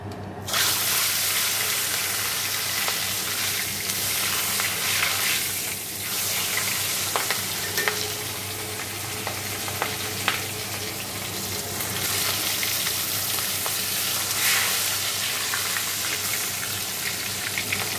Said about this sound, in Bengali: তো মাছগুলো ভেজে নেবো এখন, তেলটা গরম হচ্ছে দেখো